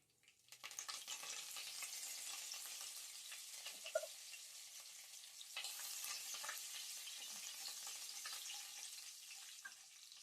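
Cumin seeds and curry leaves fry for a tempering in hot oil, giving a loud, steady sizzle that runs almost without a break, with a brief pop near the middle and a fresh surge of crackle partway through.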